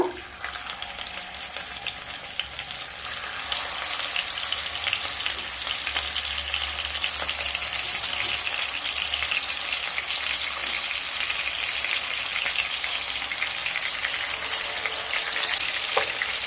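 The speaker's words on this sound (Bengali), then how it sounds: "তেলটা গরম হয়ে গেছে, মাছগুলোকে ভেজে নেব।" Fish pieces frying in hot mustard oil in a wok for an Assam-style fish curry, a dense, steady crackling sizzle that rises after a quieter opening and holds loud and close throughout, with no voices.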